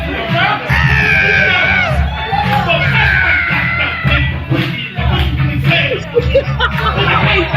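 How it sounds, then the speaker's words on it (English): Dense crowd noise at a DJ karaoke event, with voices shouting and cheering, scattered laughter and claps, loud and continuous, people talking throughout. "look at that lady in the front clapping her hands"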